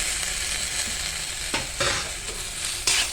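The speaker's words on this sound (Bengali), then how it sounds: "এবার আমি দু চামচের মতো আদা রসুন পেস্ট করে রেখে দিয়েছিলাম সেটা দিয়ে দিচ্ছি" Ginger garlic paste sizzles and fries in a hot pan as it is stirred, a steady broadband crackle with a few louder scrapes and spatters of the spoon, close and alone without voices.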